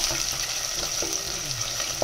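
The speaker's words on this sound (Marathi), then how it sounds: "जिरा आणि मोहरी तडतडाक लागली." Seeds crackling and popping in hot oil, a busy continuous sizzle with scattered sharp pops, close and fairly loud.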